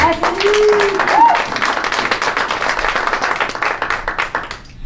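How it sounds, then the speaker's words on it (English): Audience applause at a Jacksonville Atomy one-day seminar, a loud, close burst of many hands clapping that rises, holds and then tapers off, with a brief voice at the start. "please give him a round of applause"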